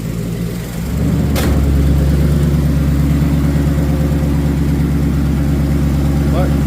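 A Ford Ranger fitted with a swapped Coyote V8 idles loud and close, a steady rowdy low rumble with no mufflers, settling in after a brief rise at the start.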